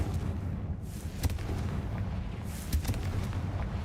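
A Confringo blasting spell in the Hogwarts Legacy video game lands as a deep rumbling boom with a couple of sharp cracks, then a rolling, low explosive roar that fills the short stretch.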